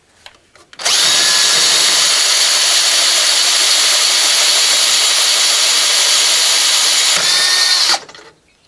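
Power drill boring a new hole through a car dashboard to fit a switch: one loud, steady high-pitched whine lasting about seven seconds, starting and stopping abruptly, close up with no talking.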